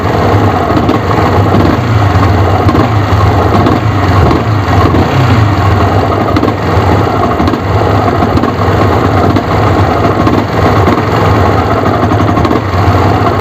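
A Yamaha R15 motorcycle idles loudly and steadily up close, its engine running continuously for the whole stretch with a faint repeated knocking from a worn clutch housing mixed into the rumble, no voices present.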